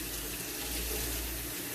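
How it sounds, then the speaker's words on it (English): Water runs steadily from a faucet while guinea pigs are rinsed beneath it, a constant close hiss and splash of flowing tap water with no pauses. "So I just rinsed them off under the faucet"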